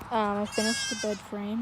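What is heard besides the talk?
baby goats bleating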